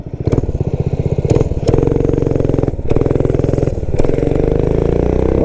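A Motovox minibike with a Predator 212 engine roars close by on a top-speed run, its single-cylinder engine revving hard and hammering steadily, with brief dips at a few moments as the throttle changes.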